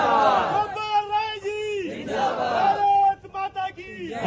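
A crowd of voices shouts the political slogan "Kejriwal ji Zindabad" in loud, ragged unison at a rally, two rising, sustained chant phrases close up, then scattered shouts trailing off.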